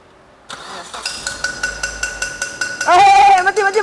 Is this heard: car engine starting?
yes